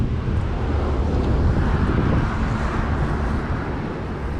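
Wind blows steadily across a microphone beside a roadside creek, a loud, continuous low buffeting roar with no pauses.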